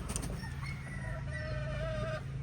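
Young pullets born in October, already laying small eggs, cluck softly in a farm coop, a faint but steady run of overlapping calls.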